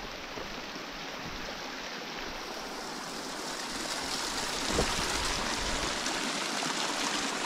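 A mountain stream on a trek to Jowo Durshing flows in a steady broadband rush, continuous and fairly close, with a slight swell toward the middle and no voices.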